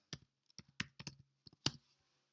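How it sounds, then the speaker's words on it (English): Light, close keystrokes on a computer keyboard, a short irregular burst of crisp clicks with small gaps between them, alone in a quiet room. "So I'm just going to type in Vikings"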